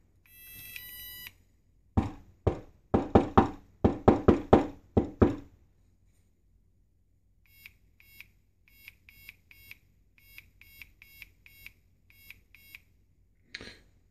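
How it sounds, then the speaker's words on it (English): A knock sensor built from hobby electronics: a beep, then a run of sharp, close knocks on a hard surface, followed by its speaker playing back the knock sequence as a quieter series of short electronic clicks and beeps. "As you could hear, the speaker plays the knock sequence when you have finished."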